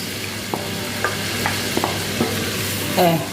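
Carrots sizzle in hot flavored oil for fried rice, a steady frying hiss broken by intermittent scraping stir strokes of a utensil against the pan, no talking.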